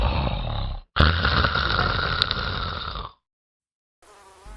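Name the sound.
man snoring loudly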